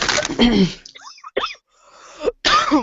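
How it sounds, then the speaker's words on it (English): A few sharp coughs burst out between bits of nearby talking, the coughing brief and close. "Sorry, I got a bit of a cough"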